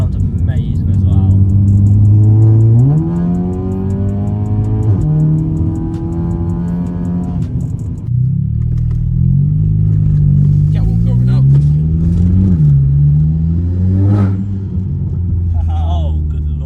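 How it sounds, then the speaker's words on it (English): A 330bhp VW Polo GTI with a full 3-inch exhaust from downpipe to back box revs loudly and repeatedly, its deep droning note rising and falling in pitch through several revs, with brief quieter gaps between. "It's got a full 3-inch system from the downpipe straight to the back box, and this thing is loud."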